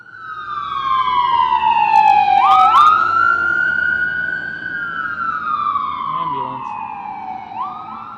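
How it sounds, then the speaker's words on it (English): An ambulance siren wails loudly in long rising and falling sweeps over a low rumble of traffic, close and steady throughout. "Ambulance."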